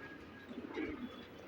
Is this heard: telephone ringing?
no